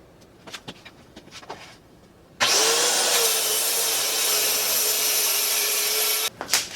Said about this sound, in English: once I'm running my router.